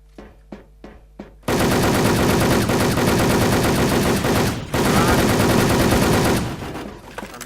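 Sustained automatic gunfire from the online shooter Wolfteam, a few separate shots then a long loud continuous burst that stops briefly and resumes before tapering off, dense and close.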